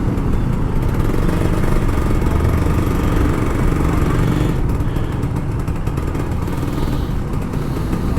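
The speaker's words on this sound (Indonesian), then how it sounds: "Lu bisa ngegas dan suaranya itu enak banget." An older Kawasaki Ninja RR 150 motorcycle engine rumbles loudly and continuously, throttle rising and falling in short revs, close to the listener.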